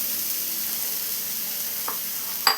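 Chopped beetroot fries in a pan with a steady, soft sizzling hiss throughout and a couple of faint clicks near the end.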